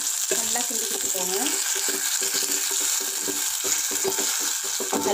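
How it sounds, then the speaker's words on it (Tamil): Ground masala frying and being stirred in a pan for pepper rasam, a steady close sizzle with scraping stirs and occasional utensil clinks, no voices. "நல்லா கிண்டி கொடுத்துக்கோங்க."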